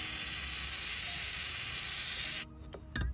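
Penetrating lube sprays in a steady, loud hiss onto the steering U-joint of a Smart 451 car for over two seconds, then cuts off, followed by a couple of faint clicks and a short burst of noise.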